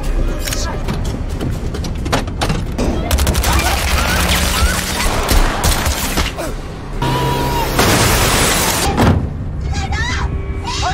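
Rapid bursts of gunfire crackle back and forth, loud and dense, mixed with thuds and engine noise in a chaotic exchange.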